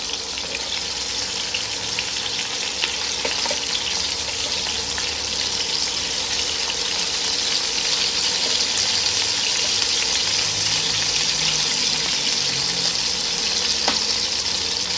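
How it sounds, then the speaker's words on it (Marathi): Stuffed bitter melons (karela) pan-roasting in oil in an open pan, turned so every side browns; a steady, even sizzle runs throughout with no pauses and no voices. "अशी ही सगळ्या बाजूने आपल्याला छान भाजून घ्यायची आहे"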